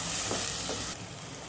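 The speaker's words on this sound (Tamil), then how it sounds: "இதையும் போட்டு நல்லா இந்த பச்சை மிளகாய் பச்சை வாசனை போகிற வரைக்கும் வதக்கிக்கலாம்." Green chillies and curry leaves sautéing in a pan give a steady, close hiss of frying oil that drops slightly near the end, with a couple of faint stirring scrapes.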